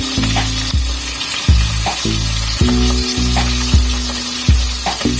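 Food fries in a pan with a continuous loud sizzle, punctuated by periodic scraping and clattering thumps as it is stirred, close up and with no talk.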